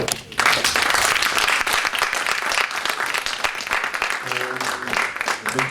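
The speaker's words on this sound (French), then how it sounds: "Je pense que ça mérite quelques applaudissements." Loud audience applause fills the room after a talk on energy optimisation and data, with dense clapping throughout and a voice speaking briefly near the end.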